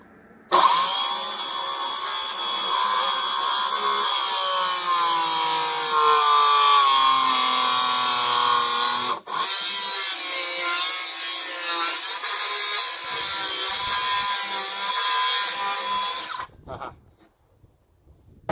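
A jigsaw rasps loudly through wood while cutting a curved boat seat base, a continuous buzzing cut with a brief pause midway before resuming and stopping near the end.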